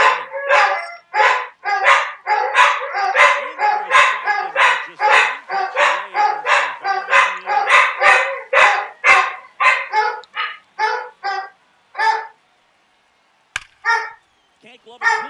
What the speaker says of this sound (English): I do apologize for the dogs.